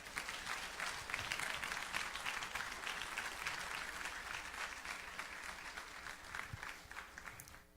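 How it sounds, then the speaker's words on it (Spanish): A church congregation at a general meeting breaks into sustained applause, the packed clapping rising early, holding for several seconds and slowly thinning, heard from some distance and fairly faint. "¿Por qué no le da un aplauso al Señor?"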